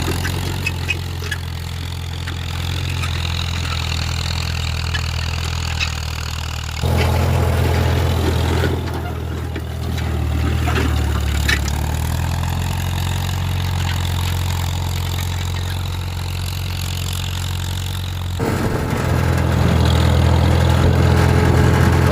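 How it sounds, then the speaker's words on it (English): A small farm vehicle engine putters steadily along in fourth gear, a continuous low mechanical drone that shifts in tone a few times and is heard alone without voices. "I'm just putting along here, and I started off in second gear just to get that first pass done and over with, but changed up to fourth gear"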